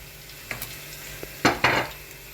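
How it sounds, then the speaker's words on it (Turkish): Minced meat and onion sauté in a pan under a quiet background sizzle, broken by a few stirring scrapes, including two louder close strokes near the middle, without speech. "kıymam soğanla bir 10 dakika ben terbiyeyi yaparken arkadaşlar şöyle kavruldu"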